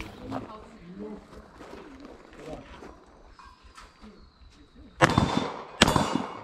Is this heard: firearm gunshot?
yes